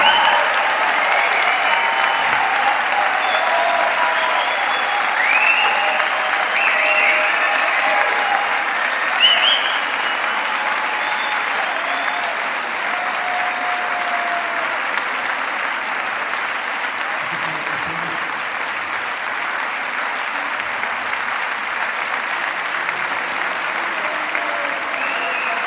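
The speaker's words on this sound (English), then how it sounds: "I wanted to play that whole applause at the end" Sustained applause from an audience at a prayer circle gathering, a dense, steady wash of clapping that holds for the whole stretch and eases slightly in volume toward the end.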